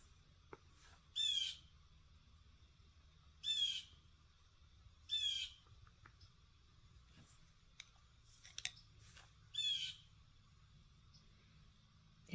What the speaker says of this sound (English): I have a whiny bird right outside.